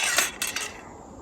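A metal cooking pot is picked up and handled outdoors in snow at -15°C, giving a few quick, close metallic clinks and knocks in just over a second, with no voices.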